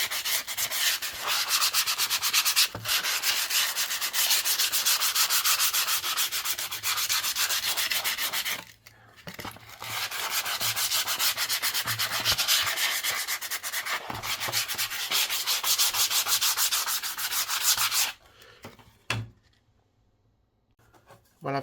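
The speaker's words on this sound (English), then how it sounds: "I've just roughed it up a little bit with the sandpaper" Sandpaper lightly roughing up the surface of a plywood panel, a steady close scratchy rubbing in long continuous strokes with a few brief pauses and a quiet stretch near the end, no voices.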